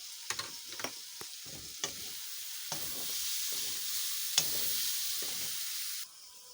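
Mushroom curry with potatoes sizzles steadily in a pan, the frying hiss loud and continuous while a spatula stirs and scrapes with sharp, irregular clacks; the sizzle drops off abruptly near the end.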